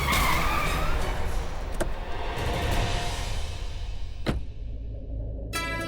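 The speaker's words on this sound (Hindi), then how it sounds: "करुणा गाड़ी रोको।" A car brakes hard and skids, tires squealing loudly at first and then fading out as it comes to a stop, with a couple of sharp clicks along the way.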